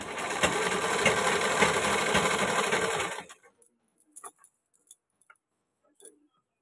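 A sewing machine runs steadily for about three seconds while stitching the border of a ghagra, then stops, leaving a few light clicks and handling taps.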